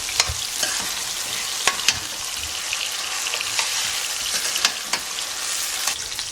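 Fish frying in oil in a pan while red peas, black-eyed peas and kidney beans are cooked, giving a steady close sizzle with scattered sharp pops and crackles throughout.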